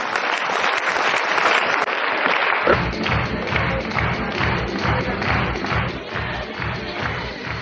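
An audience at an RCM event bursts into loud, sustained applause welcoming leaders Dinesh Choudhary and Surender Vats onto the stage, settling into rhythmic clapping in unison, with a brief voice near the start.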